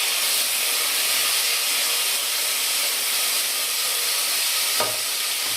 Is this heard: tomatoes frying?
yes